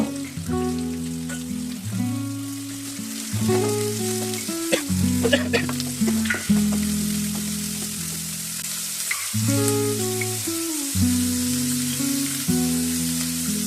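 Onions frying in a pan with curry leaves, a loud steady sizzle and crackle under occasional stirring scrapes, close and continuous with short pauses.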